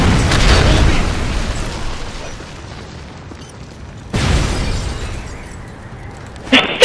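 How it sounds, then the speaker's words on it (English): Predator missile strike in a multiplayer shooter game, heavy booming explosions with a loud initial blast that fades into rumble, then a second blast partway through and a sharp burst at the end. "Friendly predator missile inbound."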